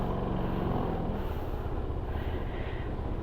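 A Royal Alloy GP 150 scooter idles quietly nearby, a low, smooth, steady engine hum with no speech over it.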